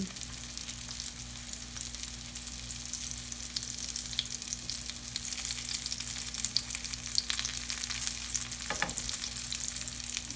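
Salmon fillets frying in a pan give a steady, soft sizzle and crackle at a gentle, even level throughout, heard close, with no talking.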